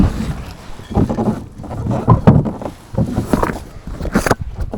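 Wind gusts buffet a small sailboat at sea, a loud rough rushing that swells and drops in uneven bursts close to the microphone, with no speech.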